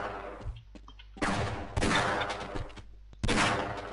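Gunfire in Half-Life: Blue Shift, bursts of loud shots in a few clusters with short gaps between them, alone with no talk.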